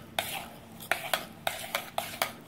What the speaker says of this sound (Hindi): बेटर ये होता है कि ठंडे दूध में ही इसको अच्छे से मिक्स कर लिया जाए